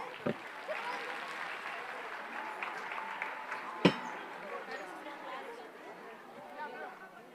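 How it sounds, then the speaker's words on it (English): A school annual day audience claps after a performance, a broad, even burst of applause mixed with crowd chatter, with one sharp thud near the middle and the noise gradually thinning. "Let's hear a round of applause."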